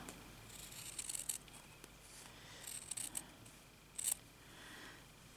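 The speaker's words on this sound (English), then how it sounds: "I might cut this piece here off here." Scissors snipping through a piece of fabric during slow stitching, a few faint, brief crisp cuts spaced apart, closer bursts near the middle and end, with quiet room noise between.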